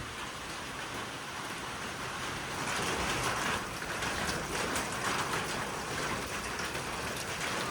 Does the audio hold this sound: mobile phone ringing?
no